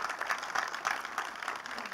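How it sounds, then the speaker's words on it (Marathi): Audience applause at a Marathi film trailer launch event, a dense steady patter of many hands clapping throughout at moderate level, no voices standing out. "जोरदार टाळ्या झाल्या पाहिजेत या ट्रेलरसाठी"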